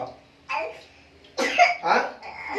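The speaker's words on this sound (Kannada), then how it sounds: "ಮ್ಯಾಂಗೋ ತಿಂದ್ರೆ ಕೆಮ್ಮು ಬರುತ್ತೆ ಅಪ್ಪ" A young girl coughs after eating mango: one short cough, then two harsher, throaty coughs close together, heard close by.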